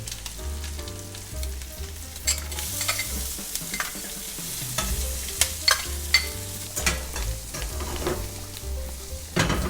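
Onions stir-frying in a pan, a loud close sizzle with rhythmic scraping and clacking strokes of a spatula against the pan throughout, occasional sharper knocks, no voices.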